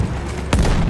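Battlefield 1 grenade explosion, a single loud boom bursting suddenly out of steady background rumble and leaving a heavy low roar after it.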